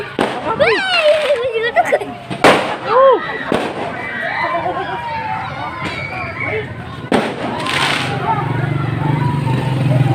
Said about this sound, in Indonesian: Apa yang bunyi tadi? Hah? Kembang api.